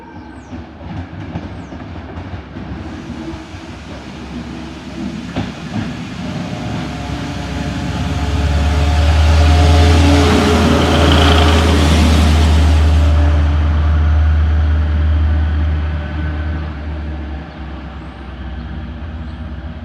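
A freshly painted single locomotive runs through Tonbridge station on the South Eastern Main Line, building from a distance to a loud, close pass with a deep engine drone and wheel clatter, then fading gradually.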